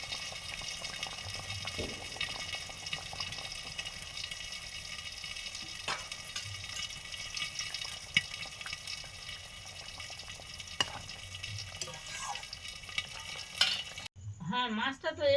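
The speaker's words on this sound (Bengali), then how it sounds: "কাঁচা লঙ্কা জল ফুটে গেছে মাছ দিয়ে দিচ্ছি" Fresh parshe and bhola fish drop into boiling water with green chillies, giving a steady bubbling, sizzling cooking sound with light stirring clatter throughout and a sharper burst of activity near the end.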